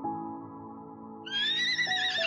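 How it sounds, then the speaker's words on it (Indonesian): A horse pulling a speeding carriage lets out a loud, close whinny after a low steady drone, the neigh ringing out alone over the last second. "Tiba-tiba, sebuah kereta kuda berjalan dengan kencangnya."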